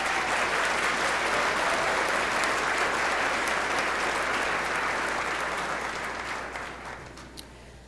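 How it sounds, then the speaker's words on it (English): Sustained applause from the audience at a chamber of commerce State of the Town event, a full, even wash of many hands clapping that slowly fades out toward the end. "Let's give them a round of applause."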